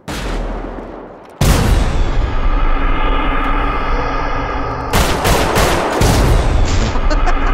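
Loud bursts of video game gunfire, with rapid automatic fire and heavy shots that ring and echo, running nearly unbroken from about 1.4 seconds to the end of the clip after a short, quieter lead-in.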